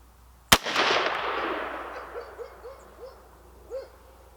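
A single sharp, loud rifle report from a Savage A17WSM semi-automatic chambered in .17 WSM, fired outdoors. The shot is followed by a long fading rumble, with owl hoots sounding faintly in the background.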